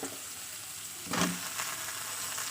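Small whole okra dropped into hot oil with fried masala, a soft steady sizzle that swells briefly midway as the pieces hit the pan.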